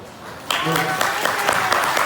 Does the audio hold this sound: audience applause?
yes